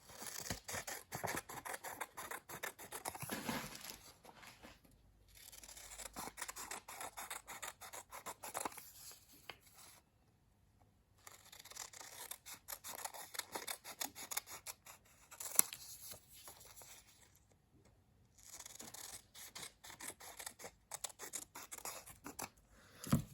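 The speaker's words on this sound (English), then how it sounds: "And then I'm going to cut those into strips." Scissors cutting paper into strips for weaving, heard as close, crisp snipping and rasping strokes in bursts separated by short quiet pauses, faint overall and with no talking.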